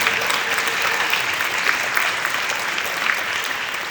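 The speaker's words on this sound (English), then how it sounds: "give them a massive round of applause" An audience at a talk on company culture gives loud, dense, sustained applause that fills the room evenly from start to end, with no talking.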